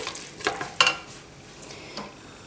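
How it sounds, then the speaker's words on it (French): Onions fry in smen and oil in a pan, a soft steady sizzle broken by a few sharp scraping stirs near the start, close and with no talking. "je vais commencer par faire colorer les oignons avec du semen et de l'huile"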